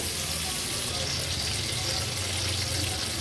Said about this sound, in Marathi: एक एक करून चारही तुकडे आपण तेलावर सोडले आहेत आता लो टू मीडियम फ्लेमवर एक दोन ते तीन मिनिटांसाठी एक बाजू व्यवस्थित फ्राय करून घ्यायचे